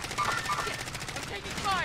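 Video game gunfire in rapid automatic bursts, a dense rattle of shots running throughout, with voices talking over it.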